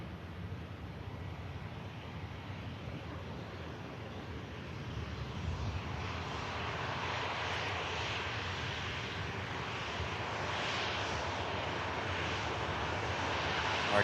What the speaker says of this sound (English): Aircraft arriving in from Rome this morning.